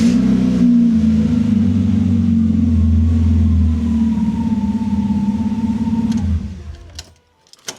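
A car with an over-the-top loud exhaust idles and revs in a deep, steady droning rumble with a rising whine, then the engine cuts off abruptly near the end, followed by a few small clicks.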